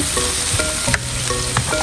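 Roughly blended pepper hits hot oil over a firewood fire for party jollof rice. It gives a loud, dense, continuous sizzle close up, with a few soft stirring scrapes.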